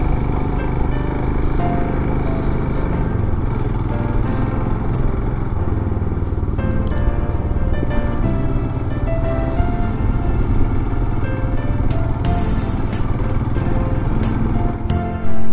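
A motorbike ridden along mountain roads in Sikkim near the Teesta river, its engine droning loudly and steadily throughout with brief rattles and clatter, no voices over it.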